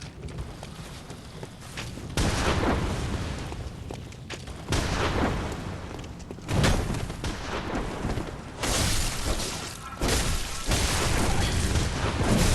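A gun fired in Bloodborne: The Old Hunters, with several heavy, booming blasts at irregular intervals over a dense, rumbling fight background.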